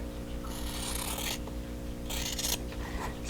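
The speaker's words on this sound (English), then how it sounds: "So I'm going to take my scissors and just trim that off." Scissors trim a fabric triangle from a quilt block, giving two short rasping snips, close and fairly quiet, over a steady low electrical hum.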